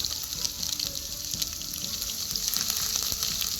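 Ginger and garlic hit hot oil already holding popped mustard seeds and whole spices for a beef curry, giving a steady, bright crackling sizzle with small spitting pops throughout, close and fairly quiet.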